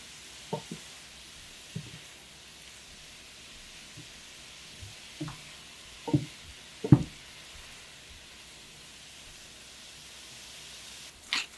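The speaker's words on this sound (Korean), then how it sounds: "간이 잘 스며들게 섞으면서 1분간 익혀주세요" Cabbage stir-fries in a pan, seasoned with salt and tuna sauce, giving a soft continuous sizzle. Scattered clinks and scrapes from stirring break through it every second or so, and nobody speaks.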